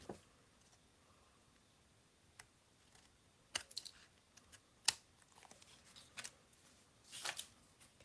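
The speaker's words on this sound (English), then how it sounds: "we're just going to trim that" Small scissors snip and trim a paper flower glued onto a greeting card, sharp isolated clicks and crisp cuts scattered irregularly, close and quiet against a near-silent room with no voices.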